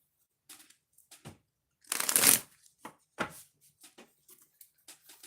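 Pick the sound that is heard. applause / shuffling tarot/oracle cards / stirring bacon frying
shuffling tarot/oracle cards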